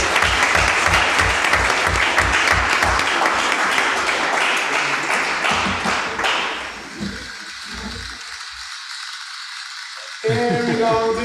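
Pre-recorded digital applause played over a sound system at a hackathon opening, a dense rattling burst of clapping that fades after several seconds into quieter room noise before a brief tonal sound returns.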